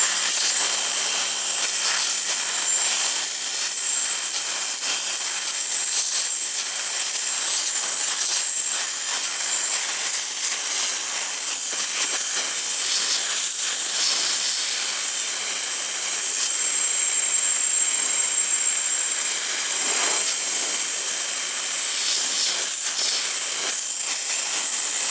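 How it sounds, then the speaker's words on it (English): Continuous loud, harsh hiss of paint being stripped off a Yamaha Blaster ATV frame, likely by blasting, steady and close with small surges in texture and no talk. "let's try to get this paint off of this frame for now"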